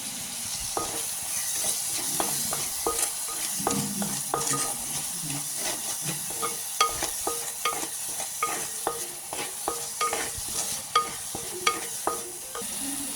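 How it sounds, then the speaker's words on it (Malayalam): Onions frying in a pan for a Kerala country chicken curry, a steady close sizzle with frequent scraping strokes of a spoon as they are stirred, and no talking. "ഇപ്പം ഉള്ളി നന്നായിട്ട് മൂത്ത് വന്നിട്ടുണ്ട്."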